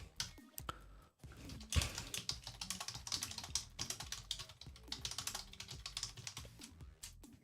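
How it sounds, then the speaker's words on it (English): Rapid clatter of a computer keyboard during a game development livestream, close and steady with brief pauses, keys tapping alone without any talking. "Oh, I was typing."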